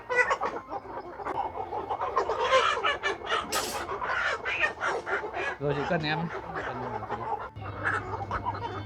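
Hens at a busy Vietnamese market cluck and squawk amid steady bargaining chatter, with nearby people talking throughout and the fowl sounds mixed under and between their voices.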